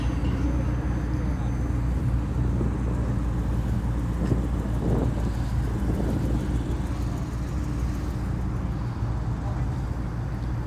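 Cars rolling past at a Toys For Tots charity car rally: a steady, dense low rumble of engines and road noise runs the whole time with no single distinct pass-by, mixed with some wind buffeting and faint murmuring voices.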